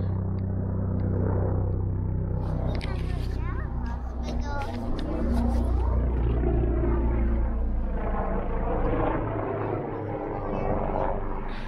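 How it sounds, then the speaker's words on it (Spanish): A helicopter flies overhead above a snowy yard by a house, its deep, steady rumble swelling and fading across the stretch while people talk nearby. "Mira el helicóptero."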